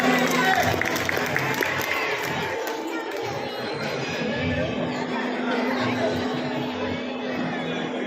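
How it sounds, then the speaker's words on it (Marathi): An audience at a park cultural festival applauding a young dancer, dense clapping mixed with crowd chatter and some cheering throughout. "जोरदार टाळ्या स्वरासाठी"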